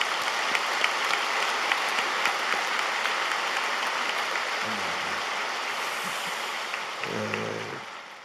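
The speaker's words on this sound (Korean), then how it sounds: "우리 개척지교회 분과위원회 장로님들 일어나실 때 뜨겁게 박수해 주시기 바랍니다." A church congregation at a Wednesday worship service at Yoido Full Gospel Church breaks into loud, sustained applause that fills the hall, with a brief low murmur near the end as the clapping starts to thin.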